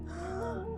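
A woman gasps for breath in a single short, strained intake with a faint moaning, whimpering tone, close and fairly quiet.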